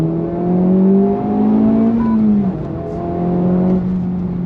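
A 2023 Honda FL5 Civic Type R pulls hard in second gear, its engine note climbing steadily in pitch and loudness, easing briefly, then building again, loud and close with no talking.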